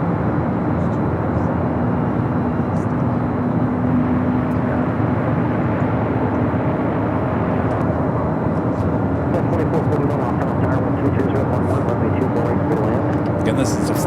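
An airliner lining up at Los Angeles International Airport for a flight to Honolulu, a steady jet engine hum and rumble running beneath ongoing talk the whole time.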